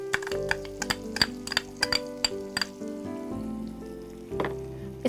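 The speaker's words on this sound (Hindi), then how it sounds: "बारीक बारीक काट कर लहसुन।" Finely chopped garlic and onion frying in ghee in a home kitchen pan, with a steady low sizzle broken by frequent sharp crackles and pops, close and moderately loud, with no voices.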